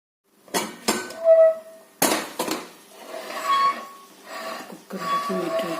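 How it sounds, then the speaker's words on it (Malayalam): A pressure cooker holding rose apples and water is closed and its weight is set on top. A few sharp metallic clanks come close together, followed by quieter rattles and knocks nearby. "കുക്കറിലേക്ക് വെയിറ്റ് വെച്ച് വേവാൻ വെച്ചു."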